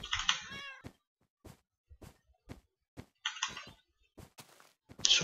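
A Minecraft cat gives several close, clear meows in separate bursts, with soft thumps and footstep-like taps in the quiet gaps between them.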